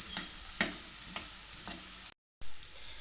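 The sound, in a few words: potatoes frying in a pan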